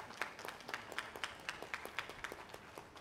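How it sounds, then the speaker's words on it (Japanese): Faint, evenly spaced clapping from an audience after a Japan Ground Self-Defense Force 1st Band stage performance at Tokyo Ramen Show 2015, sounding distant and thin with a steady rhythm. "今一度大きな拍手をお願いいたします"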